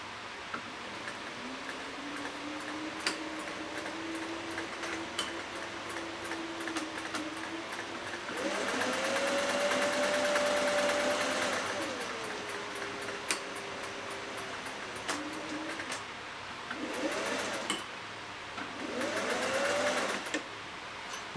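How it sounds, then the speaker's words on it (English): Singer 401A sewing machine stitching forward, back tacking, then sewing forward again, with a steady motor whine broken by short bursts and pauses, close and fairly quiet. "So I'm going to go forward with stitching 3 or 4 and then back tack and then go forward again."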